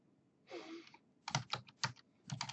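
Short bursts of close, crisp typing on a computer keyboard, clustered keystrokes with brief pauses between the groups and a softer scraping sound just before them.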